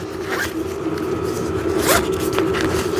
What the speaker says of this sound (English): And then this is where you have your zipper compartment.